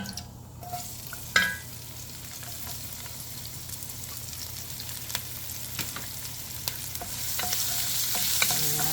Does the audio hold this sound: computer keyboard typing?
no